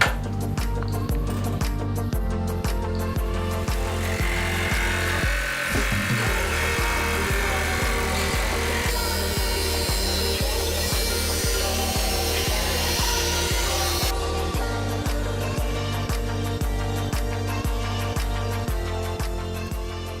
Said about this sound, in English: we're gonna use a jigsaw with a fine metal jigsaw blade and cut out